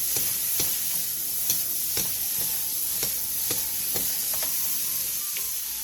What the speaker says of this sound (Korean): 그 다음 파프리카와 피망을 넣고 30초 정도 골고루 섞일 정도로만 볶아주세요